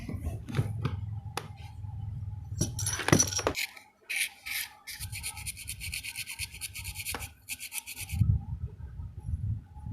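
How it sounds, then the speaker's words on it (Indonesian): Sandpaper is rubbed on the motor armature of a Philips blender in close, rasping strokes, with bursts of higher scratchy friction between irregular pauses, with no talking. "isinya diamplas."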